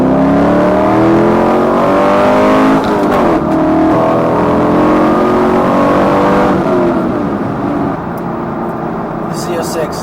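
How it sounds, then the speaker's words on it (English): A C5 Corvette Z06 engine accelerates and revs hard, a loud, close, rising drone that shifts pitch as it pulls through the gears and continues steadily throughout. "the Z06 does sound ridiculously good and make really usable power."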